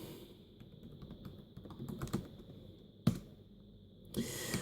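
Key taps on a Dell Inspiron 3800 laptop keyboard while a username is typed, a quick irregular run of soft clicks up close, with a sharper thump near the middle and a brief hiss toward the end.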